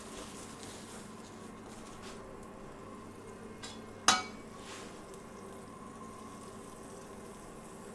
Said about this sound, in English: we're going to pop our butter in the frying pan. We want to get it melted, starting to foam